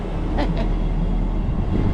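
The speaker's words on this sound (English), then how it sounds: "filming the train arriving" A train pulls into a station at Cowdenbeath, a steady broadband rumble that holds throughout, with a couple of brief higher-pitched squeals near the start.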